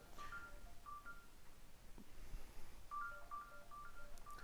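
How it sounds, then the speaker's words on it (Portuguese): A mobile phone rings during a lecture with a faint, repeating electronic melody of short tones over a steady hum of room noise, sounding in two separate bursts. "deixa eu só desligar aqui meu telefone"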